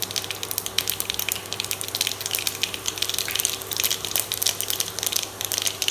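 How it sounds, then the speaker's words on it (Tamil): Mustard and cumin seeds sputter and pop in hot coconut oil for a Kerala fish dish, a dense, loud, continuous crackle of tiny bursts close by. "எண்ணெய் நல்லா சூடாகினோடனே நான் இதில் ஒரு கொஞ்சமாக கடுகு போட போகிறேன்."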